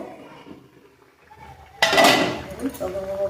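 A lid placed onto a pot of bhola fish curry with green tomatoes: a single close metallic clank followed by a faint rattle, while someone talks.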